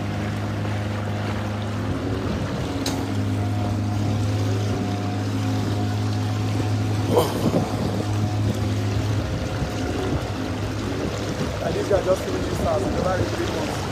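A boat motor hums steadily as the boat moves over flood water among houses in a flooded Nigerian area, with wind buffeting the microphone and occasional splashes.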